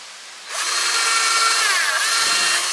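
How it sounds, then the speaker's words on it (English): A power drill starts up abruptly and whines steadily at high speed, pre-drilling wood for a KidKraft Boulder Bluff playground, loud and close, with no talking. "you want to press it down so it lines up, and then pre-drill"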